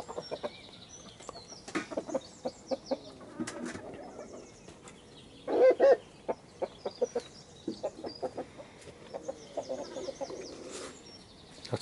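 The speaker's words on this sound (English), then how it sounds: "Luckily our neighbours enjoy the noise of the chickens" Chickens and cockerels cluck in a quiet rural yard, a scattered run of short close clucks and calls, with a brief louder burst of wing flapping midway.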